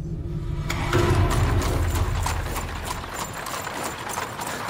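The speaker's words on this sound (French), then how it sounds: "C'est la première fois que je monte dans une calèche." Horse-drawn carriage with hooves clip-clopping in a steady rhythm on the road, close by, along with carriage rumble and no talk.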